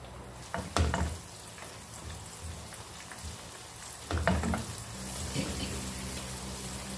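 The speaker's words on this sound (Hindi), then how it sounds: "ऑयल हमारा गर्म हो गया है, तो हम इसमें चिकन ऐड कर देंगे।" Cornflour-coated chicken pieces dropped into hot oil, two bursts of loud crackling sizzle near the start and middle, then a steady bubbling fry that carries on close by.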